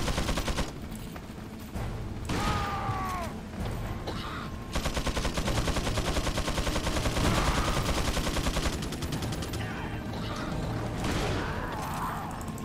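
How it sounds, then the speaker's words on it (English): Rapid bursts of helicopter gunfire in the video game Resident Evil 4, loud and sustained across the whole stretch with mechanical clatter and booming impacts layered over game effects. "Fucking bullets firing from the helicopter,"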